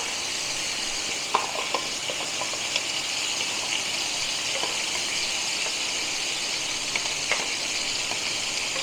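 Onion, tomato and green chili fry in hot oil for a sardine fish curry, making a constant bright hiss dotted with small crackles and pops. It stays at an even level with no voices.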